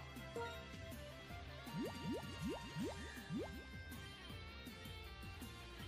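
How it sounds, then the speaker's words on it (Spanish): A Water Pulse attack in the video game Pokemon Uranium plays as a run of quick, bubbly rising chirps in the middle, over soft watery gurgling. "Hidropulso, momento chicos"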